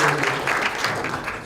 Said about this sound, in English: She still deserves a round of applause